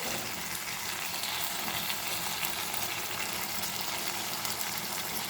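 Chopped tomatoes cook in a pan for tomato mint chutney, a steady, close, dense sizzle and bubbling hiss that runs unbroken with no separate stirring strokes standing out.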